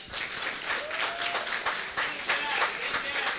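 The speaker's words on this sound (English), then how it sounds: "So if we could just give a round of applause for our staff." An audience claps for event staff, a dense steady round of applause at moderate distance, with a faint murmur of voices running beneath it.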